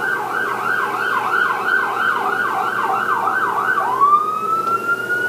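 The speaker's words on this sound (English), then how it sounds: "So when a siren goes off, in what ways is the energy modulating?" An emergency siren wails outside a lecture room, loud and steady with a rapid repeating up-and-down sweep that shifts into a long rising tone near the end.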